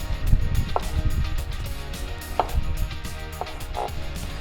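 A knife cuts mushrooms into quarters on a board while preparing an Asian-style wok dish, with soft irregular knocks and taps, close and fairly quiet, against low kitchen background noise.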